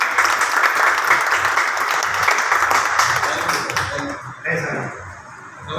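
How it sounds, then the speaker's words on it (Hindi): A business meeting audience breaks into loud clapping to welcome a speaker to the stage. The applause is dense and steady for most of the stretch and fades near the end, with some voices mixed in. "जोरदार तालियों के साथ"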